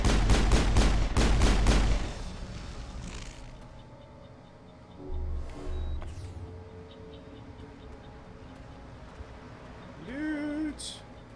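Repeated gunfire from the video game Mass Effect, a rapid burst of loud shots up front, then quieter scattered combat sounds and effects.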